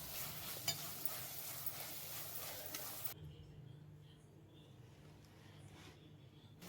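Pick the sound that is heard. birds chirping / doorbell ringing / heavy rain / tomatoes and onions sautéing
tomatoes and onions sautéing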